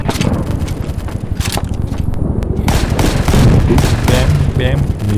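Loud, dense gunfire from a World War II video game rattles almost continuously, with rapid machine-gun bursts and heavier booms layered close together and voices mixed in.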